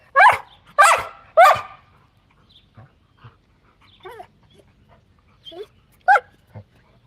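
Several loud barks from four dogs in quick succession open the clip, followed by scattered quieter barks and yips at irregular intervals.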